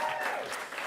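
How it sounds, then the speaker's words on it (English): Audience applause at the Salford Journalism and PR Awards 2025 ceremony: a brief, steady burst of dense clapping from a large room, with some voices mixed in. "So a round of applause for them too."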